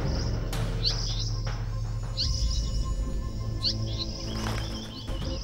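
Asian paradise flycatcher calling near a nest, sharp repeated chirps in short bursts about every one and a half seconds over a steady insect background.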